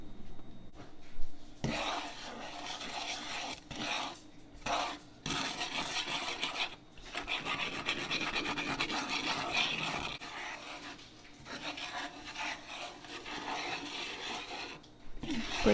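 Almond milk and cornstarch mochi mixture stirred vigorously in a pan over low heat, giving steady close scraping and rubbing strokes with brief pauses, alone without talk.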